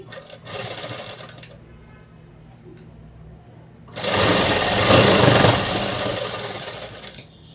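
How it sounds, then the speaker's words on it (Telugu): A sewing machine stitching a folded edge of dress cloth, a short burst of rapid mechanical whirring, a pause, then a longer, louder stretch of close, steady stitching. "ఈ క్లాత్ను ఇలా మడిచి అనేది కుట్టు వేసేసుకోండి"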